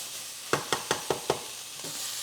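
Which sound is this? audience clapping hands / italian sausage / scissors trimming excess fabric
italian sausage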